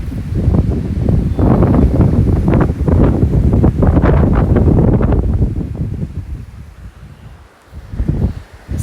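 Very strong wind at a cottage, roaring loudly in close buffeting gusts against the microphone, easing slightly toward the end before surging again.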